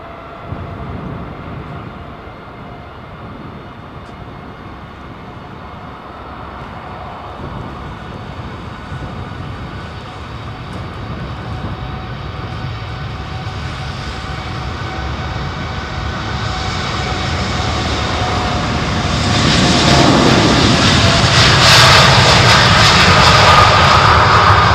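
Boeing 707 airliner jet engines at London Heathrow, a distant roar that slowly swells louder over the span, peaking near the end with a harsher, higher-pitched blast.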